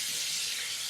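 A kitchen tap runs steadily while hands are washed under it, a continuous close hiss of water with no voices.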